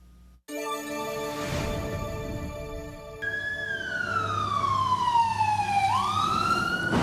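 A loud emergency siren wails over road noise, its pitch sweeping down slowly and then rising again, close and continuous.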